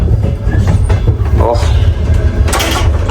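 Steady low rumble of a train rolling along the tracks, heard from aboard a train in Ukraine, loud and continuous, with faint rattles and a brief hiss near the end.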